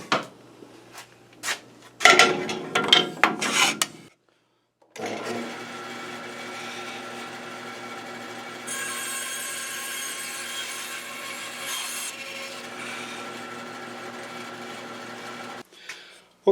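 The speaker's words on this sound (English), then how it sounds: "Let's try a cross cut here." A band saw making a cross cut through a piece of wood: a few short clatters and knocks come first, then after a pause a steady mid-level whir from the blade running through the board for about ten seconds before it stops.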